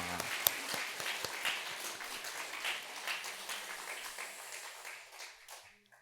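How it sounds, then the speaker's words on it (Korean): A church congregation claps together at a New Year's Eve watch-night service, a fairly soft, evenly spread round of applause that gradually tapers and fades out over several seconds. "우리 자신과 또 어, 우리 가족들을 위해 한번 박수합시다"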